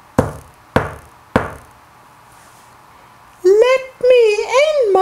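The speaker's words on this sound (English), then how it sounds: "Shortly after she left, there was a knocking at the door." Three loud, sharp knocks at a door in a told children's story of the wolf and the kids, evenly spaced and close, then a child-like voice begins speaking.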